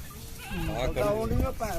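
Goats bleating at a busy weekly goat market in a Punjab village, Bathinda district, with wavering calls rising over crowd chatter and close talk throughout.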